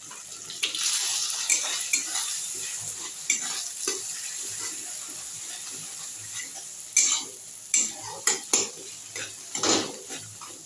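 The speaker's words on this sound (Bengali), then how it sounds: "তো ডিমটা দিয়ে দিয়েছি, এখন এটা ভাজা ভাজা হবে" Egg sizzles in oil in a home kitchen pan while a utensil stirs and scrapes it, with irregular clinks and scrapes that grow louder and more frequent toward the end.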